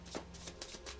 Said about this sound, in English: so let's just quickly shuffle this